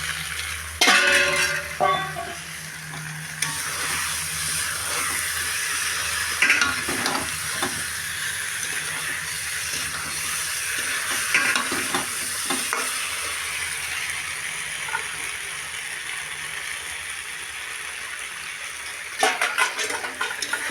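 Pointed gourd and egg, both fried beforehand, sizzle steadily in a pan of hot oil, with spatula stirring and occasional clinks of metal against the pan, close and continuous throughout, with no talking.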